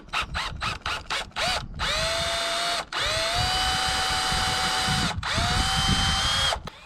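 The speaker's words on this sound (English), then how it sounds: "drilling through the plastic feet into the metal frame of the solar panel" A power drill whirs in short bursts, then runs in long sustained pulls as it bites through plastic solar panel feet into the metal frame, loud and close with brief pauses between.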